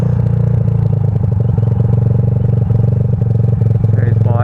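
A Honda Grom enduro motorcycle engine with a failed big end bearing runs loudly and steadily the whole time, a constant droning note with faint clattering mixed in.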